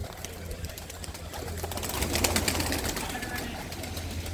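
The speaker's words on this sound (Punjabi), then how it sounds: "ਇਹਦੇ ਵਿੱਚ ਬਹੁਤੇ ਕਬੂਤਰ ਆ ਜਿਹੜੇ ਬਾਈ ਬਾਜ਼ੀਆਂ ਜਿੱਤੇ ਹੋਈ ਨੇ" Pigeons coo softly in a loft housing prize-winning racing birds, low murmuring calls under steady rustling, while someone talks over them.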